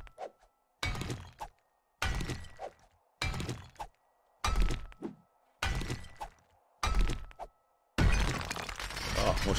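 A built structure in the 7 Days to Die survival game collapses in a string of about eight heavy thuds and crashing impacts. Each one is separated by brief silence, and a longer rumbling crash comes last.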